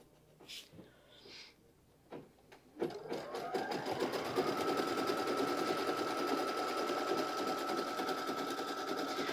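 Sewing machine stitching to tack linen down for a poppy bag, starting after a few clicks and handling sounds, then running as a loud continuous whirring drone to the end.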